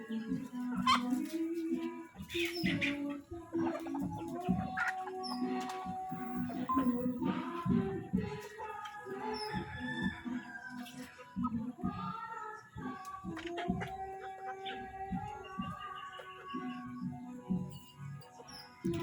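Native chickens cluck and chatter in a steady busy stream close by during feeding, with short higher calls mixed in; no crowing stands out.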